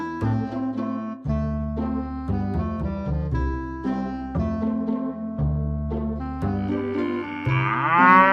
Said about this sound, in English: Cows are bred for either milking or for meat production.